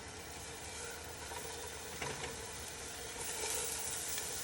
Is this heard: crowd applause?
no